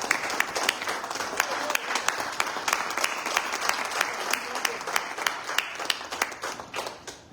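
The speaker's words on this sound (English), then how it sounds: "Please give him a round of applause." Audience applause at an evening political endorsement event in New York City, dense steady clapping from a crowd lasting the whole stretch, with voices faintly mixed in.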